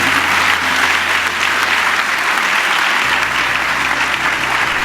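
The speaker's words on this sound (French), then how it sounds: "Applaudissez-le, s'il vous plaît." A conference audience gives loud, continuous applause, dense and steady clapping filling the whole stretch with no voices over it.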